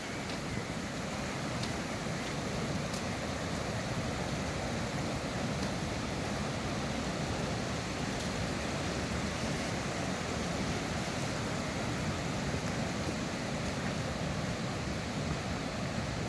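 Heavy, continuous rush of a swollen, fast-flowing river, a dense unbroken roar that holds steady throughout with no voices.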